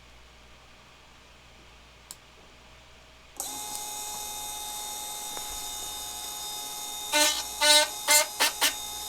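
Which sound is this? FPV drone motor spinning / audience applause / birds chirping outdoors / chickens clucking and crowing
FPV drone motor spinning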